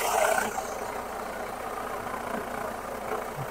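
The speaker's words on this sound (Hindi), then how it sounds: "बिल्कुल सर, देखिए गाड़ी स्टार्ट कर दी है और सुपर इंजन कंडीशन" A 2014 Nissan Terrano's engine idles steadily after starting, a low continuous hum with a brief louder burst at the very start, heard close and without talk.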